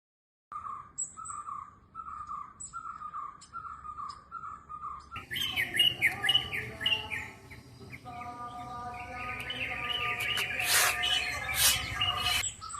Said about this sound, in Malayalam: ഞാനിവിടെ വീഡിയോ എടുക്കുമ്പോഴെല്ലാം കിളികളുടെയും അണ്ണാൻ്റെയൊക്കെ ശബ്ദ കോലാഹലമാണ്.